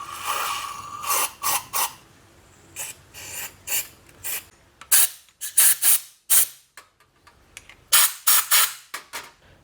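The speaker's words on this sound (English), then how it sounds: "I'm going to use some parts cleaner and then use some air to spray it out" Repeated sharp hissing blasts of compressed air, blowing parts cleaner out of a KTM motorcycle clutch master cylinder during an overhaul, come in short bursts and clusters, separated by brief pauses, loud and close.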